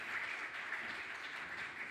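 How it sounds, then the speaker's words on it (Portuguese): Quiet, steady applause from a conference audience for the Mato Lusitano presenters from Castelo Branco at an EU funds showcase pitch session, a faint, even patter of many hands throughout. "Mais uma salva de palmas."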